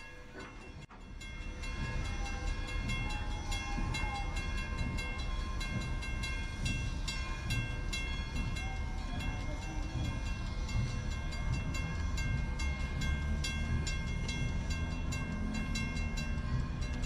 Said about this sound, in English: PNLX 57 pushes the first set of cars onto the main line.